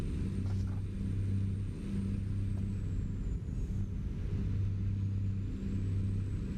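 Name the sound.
Kenworth K100 cabover truck engine in American Truck Simulator video game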